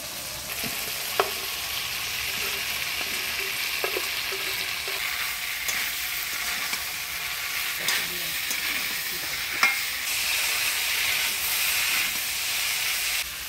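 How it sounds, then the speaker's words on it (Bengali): Potatoes and cauliflower stir-fry in spiced masala in a hot pan with a steady sizzle and hiss, broken by several sharp clicks and scrapes of a spatula. No voices are heard. "আলু ফুলকপিটা মশলা দিয়ে ভালো করে কষা নিলাম"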